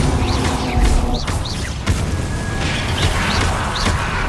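Confringo blasting spell explosions in Hogwarts Legacy combat: dense, loud crackling blasts and whooshing bursts that fill the scene, with one sharp crack partway through and a sustained rumble throughout.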